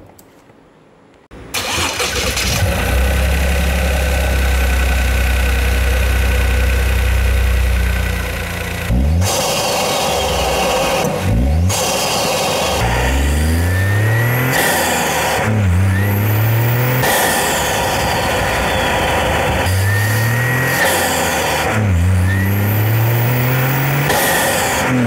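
A Toyota GR Yaris fitted with an MST Performance intake cranks and starts, settles into a loud idle, then is revved repeatedly in sharp rising and falling blips, heard close with no talking.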